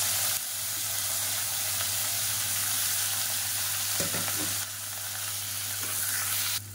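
Spices with curry leaves and long-sliced big onions sizzle steadily in hot oil inside a pressure cooker, a continuous close frying hiss with a brief stirring clatter partway through.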